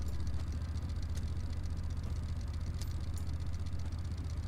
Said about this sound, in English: You can hear the engine as well.